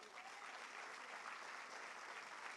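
Sustained applause from a church congregation, a dense even wash of clapping that stays at a steady level throughout with no talking over it.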